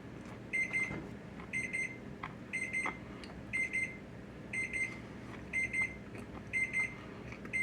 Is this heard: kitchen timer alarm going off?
yes